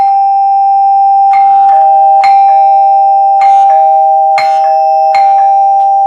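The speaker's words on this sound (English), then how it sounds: "It's a nice sounding chime." A 1956 NuTone K35 all-metal clock door chime with metal resonators rings in a quiet room, several clear ding-dong strikes spaced about a second apart, each tone sustaining and overlapping the next.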